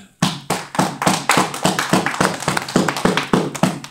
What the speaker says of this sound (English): We'll give him another hand clap.